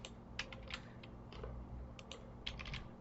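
Someone types on a computer keyboard while writing JavaScript code, quiet irregular clusters of key clicks in short bursts over a low background hum, no speech.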